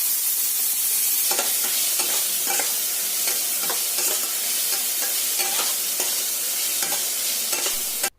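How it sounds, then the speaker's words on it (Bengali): Onion sizzles in hot oil in a pan while a spatula stirs it, scraping in repeated strokes roughly every half second over a steady, close frying hiss. "এবার আমি পেঁয়াজটাকে ভেজে নেবো"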